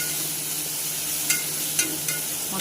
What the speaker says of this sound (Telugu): మొత్తం వేగేంత వరకు కలుపుతూ ఉండాలి.